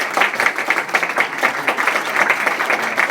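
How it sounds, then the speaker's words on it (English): Residents applauding at a public safety forum in the Waverly public library in Baltimore, a loud, close, sustained patter of many hands for a few seconds. "why don't you give yourselves a round of applause"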